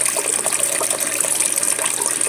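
Dirty water drains out of an aquarium canister filter during a water change, a steady, continuous gush of running liquid with no voices.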